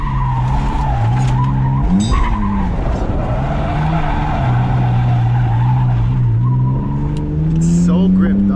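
BMW E46 wagon drifting, tires skidding and squealing in long sustained wails over a loud revving engine, close and continuous, with voices talking over it.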